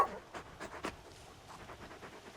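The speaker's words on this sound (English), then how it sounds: "You're just a big puppy, aren't you? A very big puppy." Torgal, a large dog in Final Fantasy XVI, panting in short quick breaths, a handful of soft rhythmic huffs up close, quiet and heard alone.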